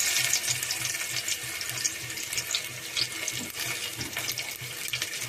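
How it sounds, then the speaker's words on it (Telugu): Spices, garlic, onion and green chillies fry in hot oil for sambar, giving a constant, close, crackling sizzle with no voices. "దినుసులు వేగిన తర్వాత ఉల్లిపాయ, పచ్చిమిరపకాయలు కూడా వేసాను. అవి కూడా వేగుతున్నాయి."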